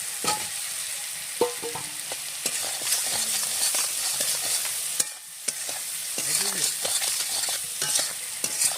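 A salted spice masala fries in oil for a rohu fish curry while potatoes are stirred in, giving a steady sizzle broken by frequent spoon scrapes and knocks on the pan.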